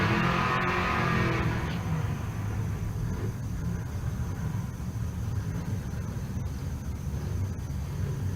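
A 2003 Harley Road King motorcycle and a car launch side by side at a drag strip in Pueblo, Colorado, opening with a loud engine roar that quickly fades into distant rumble, with no talk.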